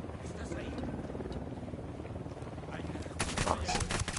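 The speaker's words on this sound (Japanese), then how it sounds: "ヘリ来てるよ。 ヘリ。" A helicopter approaches in the Ghost Recon Wildlands game, its steady rotor drone running under rattling machine-gun fire with a louder burst near the end, while players talk over it.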